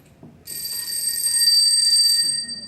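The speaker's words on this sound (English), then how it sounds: "this is just a 100-year-old bicycle bell" A 100-year-old mechanical bicycle bell rings in a continuous bright metallic trill for about two seconds, loud and close, with no voices.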